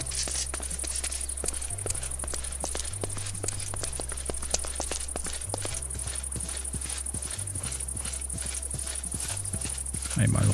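Horse hooves clip-clop steadily in the video game Minecraft, in an even close rhythm over a constant high, cricket-like chirr of game ambience.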